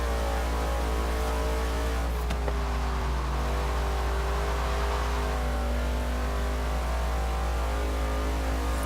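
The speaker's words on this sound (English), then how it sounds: "It's not healthy to hit the rev limiter." In the Forza racing game, a car engine drones loudly and steadily, holding a high, buzzing pitch near the rev limiter with small surges and one brief click partway through, with no voices.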